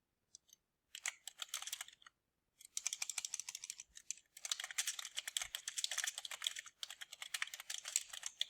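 Quiet, close typing on a computer keyboard, bursts of rapid key clicks separated by short pauses, fairly soft and alone.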